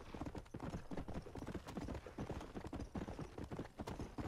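Rapid, steady clip-clop of an undead horse's hooves galloping in Red Dead Redemption: Undead Nightmare, close and continuous without a break, with a faint snort or whinny mixed in and no talking.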